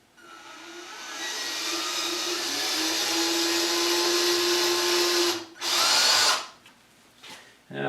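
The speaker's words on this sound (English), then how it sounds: "And I'm going to drill down" A power drill bores a hole for a glued pin in a repurposed Singer sewing machine part, whining steadily for about five seconds, then stopping and giving a brief second burst before a final short start.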